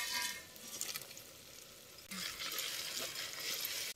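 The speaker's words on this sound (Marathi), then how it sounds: "आता हे खडा मसाला सगळा की नाही हे तेलात भाजून घ्यायचं" Whole spices crackle and sizzle in hot oil as they roast, a steady frying hiss that swells louder midway, with occasional stirring noises and no voices.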